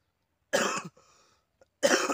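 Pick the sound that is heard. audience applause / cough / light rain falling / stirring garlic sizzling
cough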